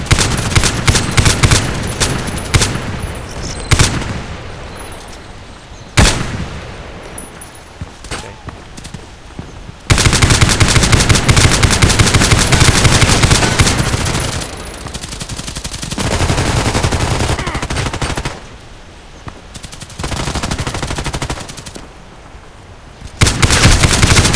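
Rapid automatic bursts from a Colt IAR machine gun in the shooter game Contract Wars, long loud sustained volleys broken by short pauses, dense and close, with faint talk underneath.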